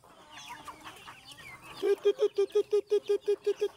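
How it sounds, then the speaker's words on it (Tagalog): Chickens in a backyard farm cluck in a quick, regular series of loud nearby calls, following a stretch of softer mixed bird chatter and faint voices. "Daming manok po. Daming manok."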